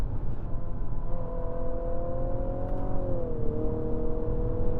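A 2022 Infiniti QX55 engine drones at high revs under full throttle in snow, its pitch holding steady and then dipping slightly, without any sharp climb.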